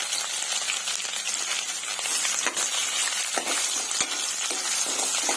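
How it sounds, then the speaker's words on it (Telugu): Onions frying in ghee for bagara rice give a steady, close, dense sizzle and crackle with occasional stirring scrapes, heard alone without talk. "ఈ ఆనియన్స్ కాసేపు ఫ్రై చేసుకుందామండి"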